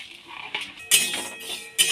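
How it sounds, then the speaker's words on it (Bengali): A metal spatula scrapes and clinks against a kadai while stirring dry-roasting mung dal, a few sharp metallic strikes and short scraping strokes in an uneven rhythm, close and fairly loud. "এবার মুগ ডালটা ভেজে নেব আমি এখানে পঞ্চাশ গ্রাম মুগ ডাল নিয়েছি"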